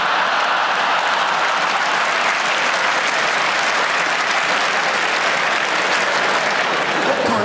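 A stand-up comedy audience in a large indoor arena claps in a loud, continuous, dense wave of applause that holds steady from start to finish.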